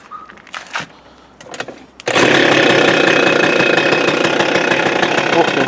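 A Suzuki Address 110 scooter with a strange knock starts on the first try after a few quiet clanks and handling noises, then runs loud and close with a rough, rapid knocking idle that continues steadily.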